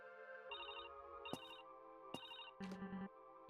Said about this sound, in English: Pick up the payphone.